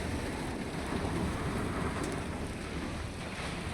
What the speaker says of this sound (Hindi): आंधी तूफान का बारिश है ये।